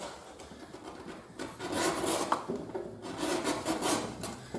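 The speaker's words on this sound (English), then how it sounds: "that's how I sharpen my French shave" A French skirt shave blade being sharpened on a piece of leather, rhythmic close rubbing and rasping strokes that grow louder in the second half, with no talk over them.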